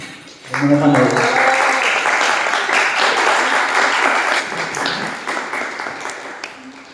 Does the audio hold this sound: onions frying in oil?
no